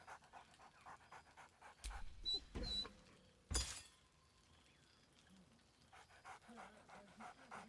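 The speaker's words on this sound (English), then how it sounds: "Scratch barks merrily in something like agreement." A dog in the video game Baldur's Gate 3 pants in quick rhythmic breaths, with a few sharp, loud crashing and clinking bursts partway through, against a quiet background.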